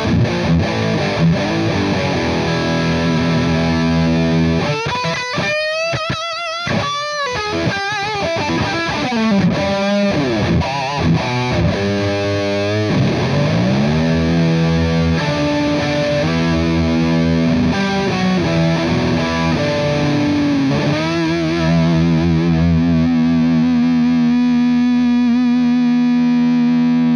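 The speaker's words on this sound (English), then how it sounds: "That is one of my favorite overdrive sounds in the entire world. Such a thick sound, but every note is defined." Orange OR15H guitar amplifier head playing a thick overdriven electric guitar, alone and loud throughout, with fast picked runs and bends, sustained chords and clearly defined single notes.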